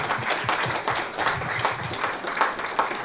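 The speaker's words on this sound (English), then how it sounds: "I would like to give you all a round of applause for contributing to all this." Round of applause from the audience at an evening charity celebration: steady, dense clapping, moderately loud and continuous, with no clear talking over it.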